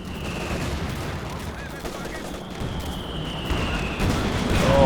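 Battle gunfire in the Company of Heroes 2 war game: a dense, continuous crackle of rifle and machine-gun fire with distant booms, steady and loud, building slightly toward the end, while a commentator talks over it.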